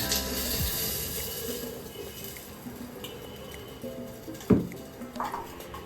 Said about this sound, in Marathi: ताक टाकते मी आता